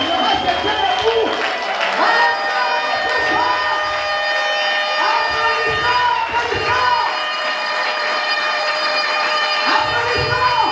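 Crowd noise at a party rally: cheering and applause swell and recede under sustained tonal music or horns, with voices shouting intermittently across the ten seconds.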